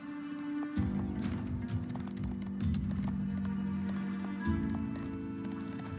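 Horses' hooves clip-clop in a steady gallop as mounted horsemen retreat toward a Mongol base in Age of Empires 4, the rhythmic hoofbeats continuous and fairly close, with faint battle noise underneath.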